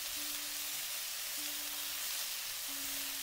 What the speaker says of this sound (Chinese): 所以我们开大火快速的给它翻炒均匀